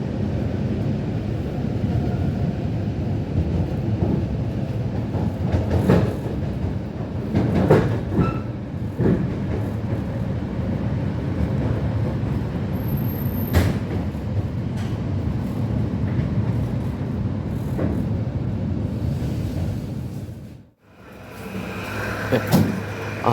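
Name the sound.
Russian commuter train running near Moscow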